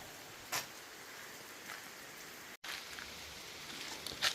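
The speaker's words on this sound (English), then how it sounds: "once the rain slows down" Steady rain falls close by on a wet trail stop during a bike trip between Markleton and Ohiopyle in Pennsylvania, a continuous hiss with a few louder drop patters and a brief dropout, no voices.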